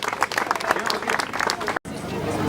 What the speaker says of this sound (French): On les applaudit bien fort tous les trois